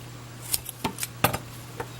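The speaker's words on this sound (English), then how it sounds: "Get my scissors. I'm going to cut this" Several sharp, crisp snips of scissors cutting paracord, irregularly spaced over a couple of seconds against a faint steady hum.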